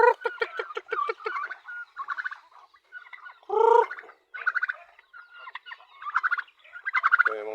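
Chickens cluck and chatter close by in rapid, repeated bursts with a louder squawk midway, around a coop holding newly hatched chicks.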